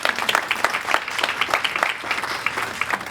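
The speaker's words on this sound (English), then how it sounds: "Yeah, I think that deserves an applause." A conference audience at a charity forum applauds, a dense, even burst of many hands clapping that fills the room for a few seconds with no talk over it.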